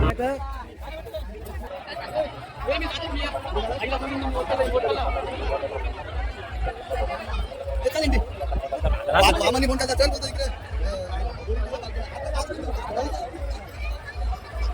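Steady crowd chatter and babble at the Akkadevi temple fair in Bori, a dense hubbub of many voices over a low rhythmic pulse, with people talking close by.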